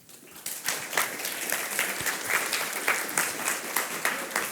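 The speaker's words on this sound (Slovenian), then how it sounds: "mi pa seveda napovejmo z glasnim aplavzom" A conference audience gives loud, sustained applause, with dense clapping starting quickly and holding steady throughout, close and full.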